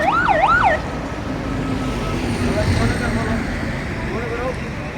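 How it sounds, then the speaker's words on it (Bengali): An ambulance siren wails loudly in a rising-falling pattern for a moment, then gives way to the dense rumble of a long traffic jam on the road after a bus and truck collision. "এখানে অ্যাম্বুলেন্স চলে এসেছে দেখতে পাচ্ছেন"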